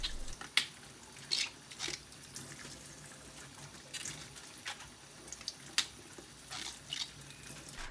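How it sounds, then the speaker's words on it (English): Tap water running steadily into a sink while bok choy is rinsed, with intermittent splashes and drips breaking the flow. "give it a good rinse under running water"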